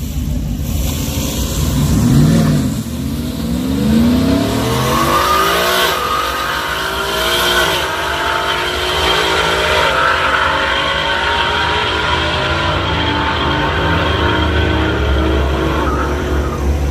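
A Porsche drag racing down a dragway at a Friday night test-and-tune: a loud engine winds up through rising gear pulls, close and continuous, with tire and exhaust roar and no talking.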